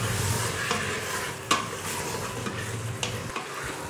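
Spicy chicken curry stirred in a pan with lemon juice just added, a steady sizzle under scraping strokes and a few louder knocks of the spoon, close and without talk.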